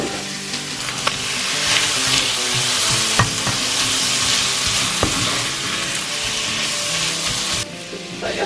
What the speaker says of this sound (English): give that a bit of a cook up together until the onions just start going soft a bit